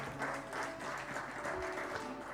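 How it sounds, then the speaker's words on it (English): A panel discussion audience gives a short, steady round of applause for a panelist, heard at moderate distance in a hall with a faint tonal hum underneath. "A round of applause, ladies and gentlemen."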